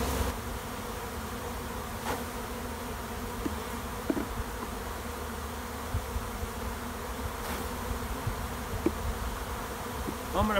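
Dense, steady buzzing of many honey bees close by in a hive box, a continuous droning hum with occasional faint knocks and clicks.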